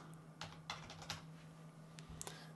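Computer keyboard keys are tapped in a short, irregular burst of quiet clicks while text is typed into a concept map node in SMART Notebook 15, with no voice present.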